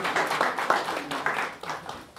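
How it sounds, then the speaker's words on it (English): Scattered clapping from an audience at a school board of education meeting, a brief uneven burst of hand claps that trails off after about two seconds, fairly close and moderately loud. "You didn't have to clap."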